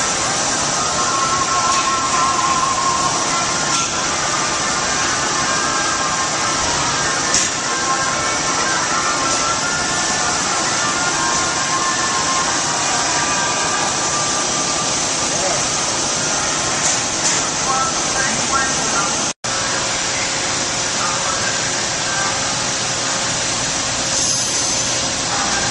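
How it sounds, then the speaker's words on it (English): An industrial cutting machine with a cutting head and work vices works through a loaded workpiece, giving a steady, loud, dense grinding-whir that runs almost unbroken for the whole stretch, with one sharp momentary dropout near the end. "We'll be loading the piece to start the cutting process."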